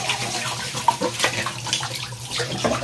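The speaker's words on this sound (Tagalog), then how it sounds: "Maghugas tayo ng plato" Tap water runs steadily into a sink while dishes clink and rattle intermittently close by, in a home in the Philippines.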